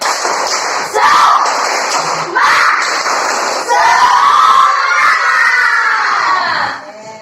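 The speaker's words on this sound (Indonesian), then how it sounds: "mari kita tepuk semangat" Classroom children chanting and shouting the tepuk semangat clap chant in loud, energetic bursts, their voices rising together in several rhythmic phrases close by before trailing off at the end.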